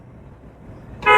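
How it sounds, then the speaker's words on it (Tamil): A car horn blares once, loud and close, near the end of a quiet stretch of low road hum during a driving lesson. "ஹார்ன். One more."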